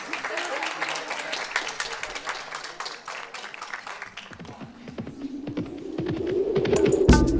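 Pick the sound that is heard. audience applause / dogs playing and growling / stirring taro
audience applause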